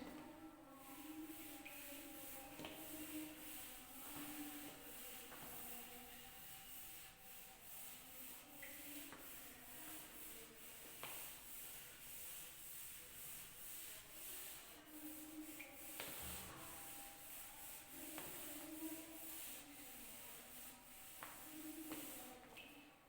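A board duster rubbing out writing on a classroom board: repeated brushing and scraping strokes in a fairly even rhythm, close and moderately loud, with no one speaking.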